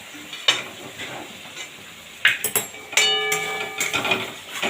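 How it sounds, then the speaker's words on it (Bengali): Spice masala for a lote fish dopiaza curry sautés and sizzles in a pan, with irregular clinking and scraping stirs and some metallic ringing taps, fairly loud and close. "আবারও ভালোভাবে কষিয়ে নেব দেখুন কি সুন্দর মশলাটা কষানো হচ্ছে"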